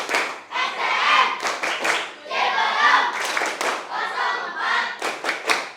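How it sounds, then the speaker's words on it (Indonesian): Schoolchildren in an elementary school classroom do a rhythmic class clap, bursts of hand claps alternating with brief pauses in a patterned beat, with voices chanting along. "Tepuk SDN Ciberem 4"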